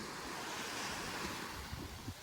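Sea waves wash onto a beach in a continuous soft surf, with faint wind rumble on the microphone and no talking.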